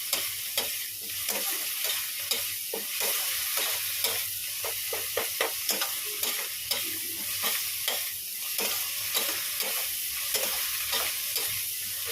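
Spice masala stir-fried thoroughly in a pan, the mixture later joined by fried soybean and boiled potato: a steady low sizzle under repeated spatula scrapes and taps at an uneven rhythm, close by and with no talking.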